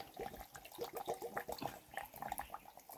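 Water is poured into a pot for squash flower soup, a quiet splashing, gurgling stream with uneven bursts over a few seconds, heard alone.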